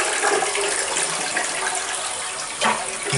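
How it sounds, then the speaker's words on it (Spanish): A toilet in a house bathroom flushes, a loud, close rush of gushing water that swirls steadily for a few seconds and surges again near the end. "Tenemos un sanitario sin bizcocho funcionando su descarga"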